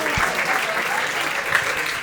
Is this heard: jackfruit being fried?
no